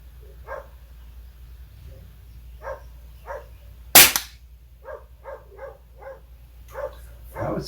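An air rifle fires a pellet at metallic silhouette targets: one sharp, close crack in the middle, with faint scattered knocks and soft sounds before and after, and brief voice-like bits near the end.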